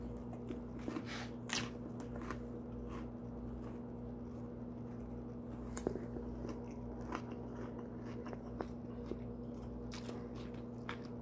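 Crispy, fresh food is bitten and chewed up close, giving soft irregular crunches and crackles over a steady background hum.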